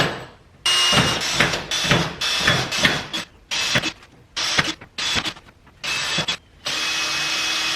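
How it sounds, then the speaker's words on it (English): A power drill pre-drills holes for zip ties in a wooden chick brooder, running in a string of short bursts, several whirring spurts separated by brief pauses, close and fairly loud. "pre-drill some holes for the zip"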